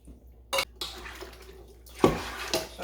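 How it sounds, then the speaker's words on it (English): Water poured or splashed into a cooking pot while making a kale and spinach efo riro, with clattering pot sounds and short bursts of liquid, close and fairly quiet. "So I'll add a bit of water because I need some"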